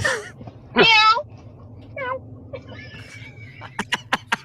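A voice mimics a cat with a loud, drawn-out meow, followed by softer mewing sounds and a few sharp clicks near the end.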